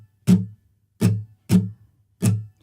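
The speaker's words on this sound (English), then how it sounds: "We're going to use a shuffle strum, which is common in blues." An acoustic guitar plays a blues shuffle strum: four crisp, ringing strums in an uneven, swung rhythm, each dying away quickly into near silence, with no voice.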